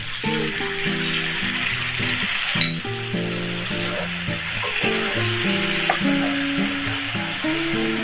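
Japanese soy sauce hits pork spare ribs cooking in a hot pan, giving a loud, continuous sizzle with occasional clinks of the utensil, set against steady background music.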